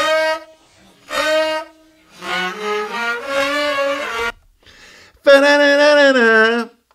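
Saxophone riff from a song, slowed down drastically so each held note sounds long, wavering and pitch-bent, in several separate phrases with short gaps between them.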